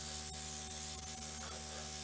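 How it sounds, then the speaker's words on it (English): A cheap, inexpensive airbrush spraying paint gives a soft, continuous hiss that stays even and faint throughout, with no voices. "This is a cheap airbrush, not very expensive airbrush"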